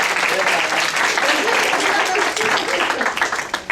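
An audience claps for performers being introduced at a stage show, a brief, thick burst of applause close by, with voices mixed into the clapping.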